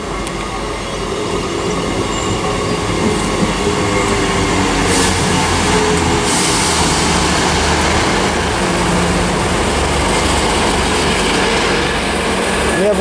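A British Rail Class 158 diesel multiple unit arrives at Highbridge and Burnham station, a loud, steady rumble of wheels and engine with faint squeals and rail clatter and no talk.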